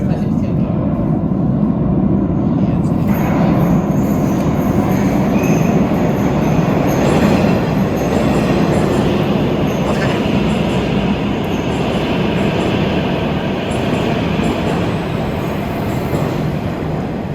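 A metro train runs through an underground subway tunnel, a loud continuous rumble with wheel squeal and rattling that fills the whole stretch, close and sustained without letting up.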